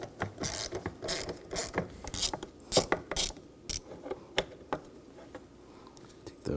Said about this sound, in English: We're going to use a 10mm socket for those.